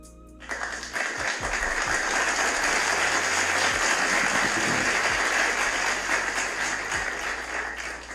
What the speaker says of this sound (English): Let me clap it up for Ritesh and Wes.